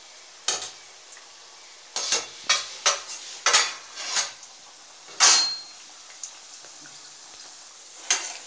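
Mathri frying in a pan over a medium flame, with a faint steady hiss under repeated short scraping and clinking bursts of utensil against the pan, fairly close.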